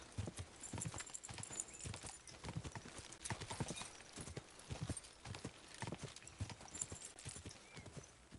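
Horse hooves clop rapidly in a steady galloping rhythm in the video game Kingdom Come Deliverance 2, quiet and continuous, with a brief whinny mixed in.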